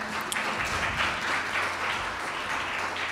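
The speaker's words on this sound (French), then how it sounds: "Vos applaudissements s'il vous plaît." At an award ceremony for a jingle contest, an audience claps in a dense, sustained round of applause from many hands, steady and even throughout with no pauses.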